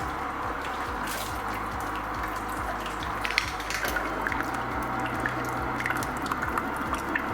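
Liquid drains from the mash while brewing beer, a faint steady trickle with quiet dripping under a low, regular mechanical hum, and no voices.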